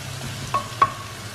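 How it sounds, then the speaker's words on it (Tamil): Spice powders sautéing in a pan for Kerala chicken curry, a low steady sizzle with two brief scraping stirs about a quarter second apart, heard alone without talk. "நல்லா வதங்கட்டும்."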